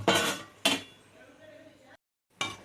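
Metal clanks of a lid being set onto a cooking pot of pulao rice: two sharp clatters close together, a short ringing tail, a brief silence, then another clank.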